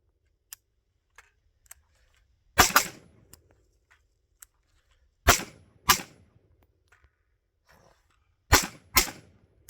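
An unsuppressed MK18 short-barreled rifle fires in sharp, loud reports, mostly in quick pairs spaced a few seconds apart, with faint clicks and handling noises in between.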